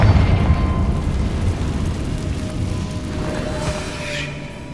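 A Confringo spell explodes in Hogwarts Legacy, heard as a loud burst at the start followed by a rumbling boom that slowly fades over several seconds.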